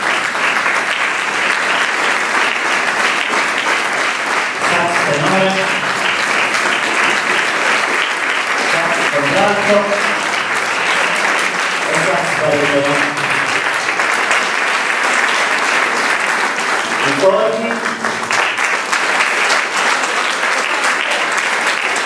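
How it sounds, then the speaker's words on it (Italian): A concert audience in a municipal auditorium applauds the clarinet section at a Christmas concert, long steady clapping throughout with a few brief voices calling out over it. "Un applauso ai clarinetti."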